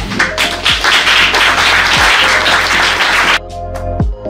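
Loud, dense applause from a live audience at a cinema masterclass, sustained clapping filling the room for about three seconds before thinning out into a few scattered claps.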